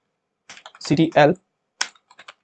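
Typing on a computer keyboard, a few quick clusters of clicking keystrokes with a short pause between them, heard close alongside a spoken voice.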